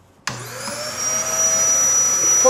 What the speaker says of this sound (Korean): 다음은 청소기를 이용해서 청소를 하도록 하겠습니다.